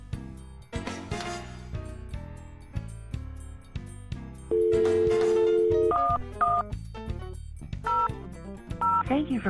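A call is placed on a Cisco Unified Communications Manager phone system, with a quick run of touch-tone dialing beeps, then a sustained tone and repeated two-tone ringback pulses, close and clear.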